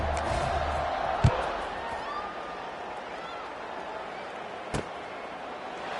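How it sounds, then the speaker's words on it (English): A stadium crowd buzzes in the College Football 26 video game, a steady low roar of many distant voices, broken by two sharp thuds, while play-by-play commentators talk over it. "this crowd is buzzing after that last score"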